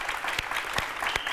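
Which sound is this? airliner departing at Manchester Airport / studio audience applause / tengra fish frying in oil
studio audience applause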